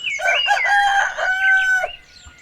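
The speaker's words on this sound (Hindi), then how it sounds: "एक गांव में पिंटू नाम का एक मुर्गा रहता था जो हर सुबह सबको जगाता था।" A rooster crows once in a long, loud cock-a-doodle-doo with a rising start and a sustained ringing finish, heard alone and close, fading at the end.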